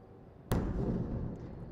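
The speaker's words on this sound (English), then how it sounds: "Wow, big explosion there." A distant explosion during the Israeli invasion of Gaza is picked up by a live war camera: one sudden boom followed by a long rumbling tail that slowly fades.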